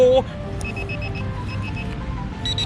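A steady electronic beeping metal detector tone pulses repeatedly at a high pitch, continuing alongside background noise and faint talk.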